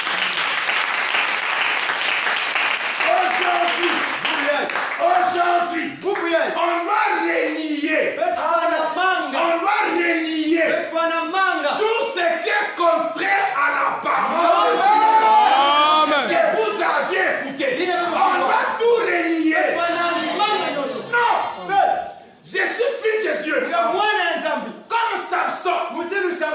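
A church congregation cheers and acclaims the Lord, loud sustained applause mixed with shouts and whoops from a large crowd, with voices rising over it throughout.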